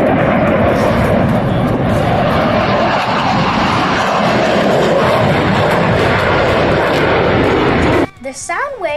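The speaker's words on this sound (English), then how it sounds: "Do you hear the difference in sound as the jet passes by?" A Blue Angels jet roars overhead at an air show, a loud, sustained broadband rush that holds for several seconds before cutting away abruptly, with faint voices near the end.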